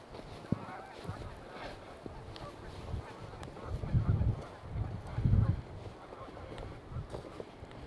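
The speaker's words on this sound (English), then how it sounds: "I assume you can hear those geese flying around, honking." Geese honk faintly in the distance as they fly over a riverside levee in Livingston, Montana, on a windy day after the first snow, with a few soft calls under steady wind noise and a low voice.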